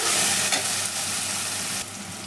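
Spice masala frying in oil in a pan for a lauki chana dal: a steady, close hiss of sizzling with a stronger burst near the start, easing slightly toward the end, no voices.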